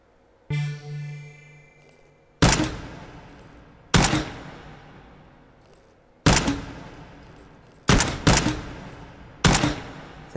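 A red dot sight rifle fires in the VR shooter Hot Dogs, Horseshoes & Hand Grenades: loud, sharp shots spaced a second or two apart, some in quick pairs, each with a ringing decay, after a brief tonal hum at the start.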